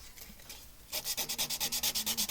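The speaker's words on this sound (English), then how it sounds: "But I am going to sand a little bit" Steady back-and-forth sanding on a woodturning piece, a quiet rub at first and then a louder run of even, rhythmic strokes close by, with no talk.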